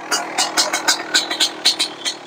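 A Husqvarna WR125 dirt bike engine runs nearby with a rhythmic, pulsing exhaust note, revving in regular bursts with no talking.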